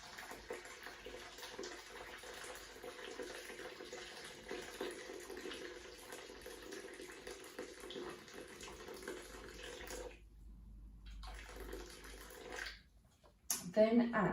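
Boiling hot water poured steadily from a kettle into a container resting on kitchen scales, a continuous splashing stream that breaks off briefly near the end, with a voice speaking over it.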